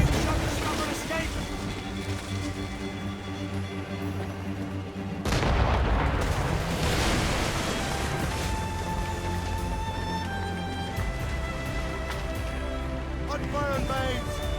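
Naval cannon fire from a sailing ship in Assassin's Creed Rogue, heavy booms bursting out one after another over crew members shouting orders, under a continuous roar of wind and sea.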